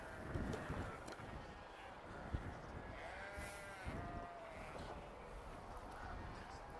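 Ram lambs bleating at an outdoor livestock show, several faint bleats scattered across the scene under wind noise buffeting the microphone and distant murmuring voices.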